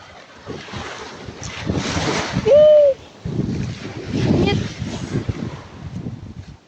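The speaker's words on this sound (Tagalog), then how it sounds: "Grabe lakas ang alon dito guys." Strong surf at Talisay beach washes in with broad rushing swells under gusty wind buffeting the microphone, with a voice talking over it and a brief tonal sound near the middle.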